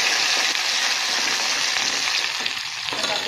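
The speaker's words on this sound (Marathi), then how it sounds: "हे आपण वाटून घेतलेले जाडसर जिरे आणि खोबरं टाकणार आहे। मी छान हलवून घेतले।" Coarsely ground cumin and coconut hit a hot pan with a loud, steady sizzle while being stirred, and the crackle dips slightly toward the end; no talking.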